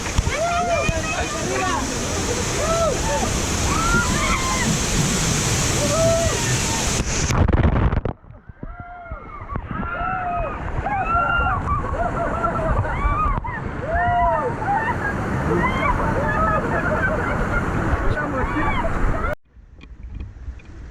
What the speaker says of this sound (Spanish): ¡Ya! ¡La cascada!